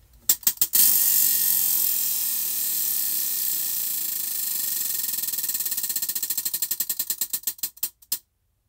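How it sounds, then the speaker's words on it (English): A spinning prize wheel used to pick the next crochet stitch whirs with a fast rattle of ratchet clicks that gradually slow into distinct ticks before stopping, loud and close with no talking. "And now let's spin for the final stitch."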